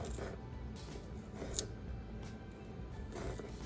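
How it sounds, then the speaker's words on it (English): A Cold Steel Super Edge knife cuts through a sausage, making soft, close scraping and ripping sounds in short strokes over a low rumbling background, with one sharper snick partway through. "Okay, so it is cutting the sausage, but it's also kind of ripping at that very end."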